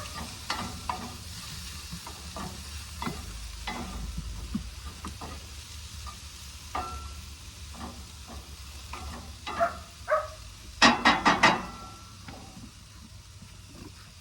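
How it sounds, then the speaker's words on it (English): Drained black beans tumble into a pan of sweating vegetables for huevos rancheros, giving a few sharp clattering bursts late on over a low steady sizzle and stirring noise, with no talking. "we're gonna take some black beans that have been drained and put them in this pan"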